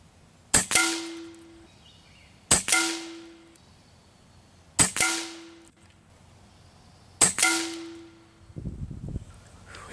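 Airmaks Katran Long air rifle firing 15.89 grain JSB pellets at a target: four sharp, loud shots about two seconds apart, each with a short ringing decay. No one speaks.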